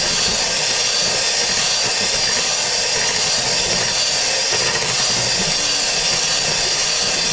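An electric mixer beating cake batter in a bowl gives off a steady, loud whirring hiss that holds unbroken from start to finish, with no talking over it.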